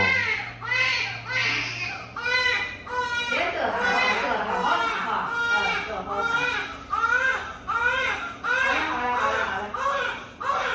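Newborn baby girl crying and whimpering through her first swim, in repeated wailing bursts close by, while adults talk softly over her.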